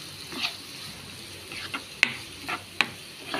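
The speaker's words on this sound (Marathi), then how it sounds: "तो बरो करून भाजयता पियाव" Onions frying in melted butter in a pan for pav bhaji, giving a faint, steady sizzle with a few sharp clicks of stirring scattered through it.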